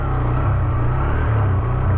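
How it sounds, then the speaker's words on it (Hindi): A 2024 Hero Xtreme 160R 4V motorcycle engine runs, a loud, close, steady low rumble with slight pulsing and no talking. "गाड़ी को स्टार्ट करेंगे और देखेंगे, आवाज़ बहुत स्मूथ देखने को लग रही है"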